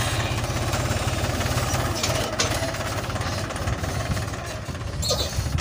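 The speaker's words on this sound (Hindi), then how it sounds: "देखो ट्रैक्टर लोड फ्री चल रहा है बिल्कुल" A tractor engine chugs steadily at close range, running with no load, a loud rhythmic diesel knocking with a rattling vibration throughout.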